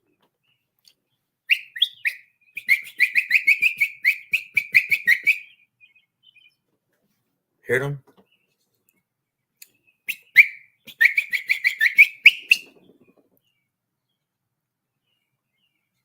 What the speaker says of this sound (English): I love the birds every day.